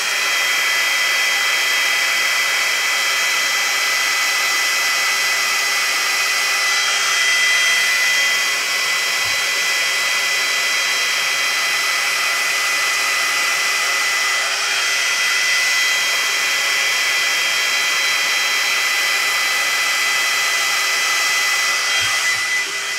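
A ghd Duet 2-in-1 hot air styler blows continuously on wet hair, a loud, steady high-pitched rush of air close by that barely changes over the whole stretch.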